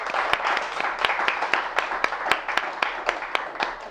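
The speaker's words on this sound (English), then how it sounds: "Can we just give a little round of applause to the child?" A small audience at a talk gives a light round of applause: a few distinct, separate hand claps repeat at an uneven pace over a soft, continuous patter, fairly close.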